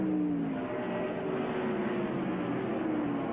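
NASCAR stock cars race around the Watkins Glen road course, a steady engine drone with gliding pitch sweeps as cars pass at a distance, continuous and moderately loud.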